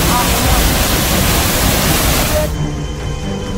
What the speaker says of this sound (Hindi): लगातार हो रही बारिश से झरने से बेतहाशा पानी गिरने लगा।